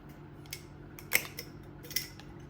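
Scissors snipping string off a small jar, a few soft clicks with one sharper snip in the middle, close and quiet over a faint background hum.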